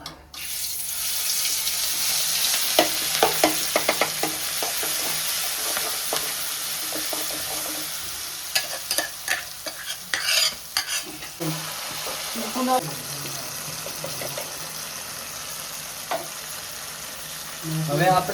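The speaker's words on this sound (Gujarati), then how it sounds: "હવે આની અંદર બધા મસાલા મિક્સ થાય છે" Spices including mustard seeds and mild chili are stirred and fried in a pan for a country-style spiny gourd curry: a close, continuous sizzle broken by clattering spoon scrapes and stirs.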